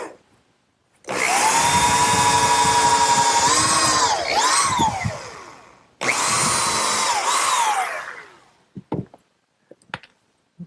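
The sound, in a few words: power drill pre-drilling screw holes in pressure-treated lumber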